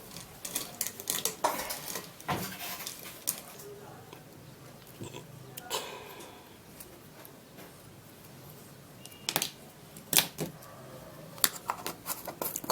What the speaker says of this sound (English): So now we're just going to be scooping in the Vaporub into the treatment.